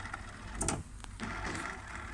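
An HP OfficeJet 7612 inkjet printer runs its carriage back and forth, a steady mechanical whir with a short louder burst of motion midway, close by and alone with no talk.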